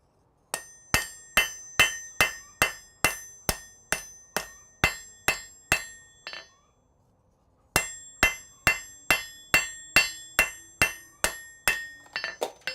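A blacksmith's hammer strikes hot metal on an anvil in a smithy in steady, ringing blows about twice a second. The hammering pauses for about a second and a half, then resumes at the same even rhythm, loud and close.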